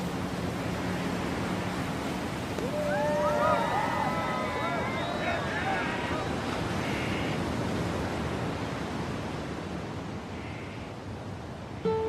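Waterfall water of the Iguazú falls crashing into the Iguazú river, heard as a broad steady roar seen from a boat, with faint whistling tones and a voice passing briefly over it.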